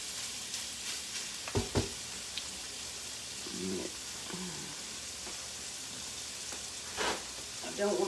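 Shrimp sizzle quietly and steadily in a hot pan, cooked with onions, while a spatula stirs them and scrapes the pan with a few sharp clacks.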